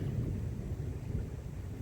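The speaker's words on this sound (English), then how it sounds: "Y'all hear the thunder?" Thunder rolls as a low, sustained rumble during falling rain outdoors, with a steady rain hiss underneath and no talk.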